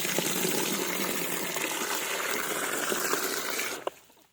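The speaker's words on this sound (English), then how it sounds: "So I'll put the water in here" Water gushes steadily into a container for animals on a homestead, a continuous splashing pour that stops abruptly near the end.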